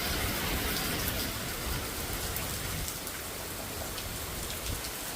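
Heavy rain falls in a dense, steady roar near the listener, with occasional louder drops striking a surface and no voices.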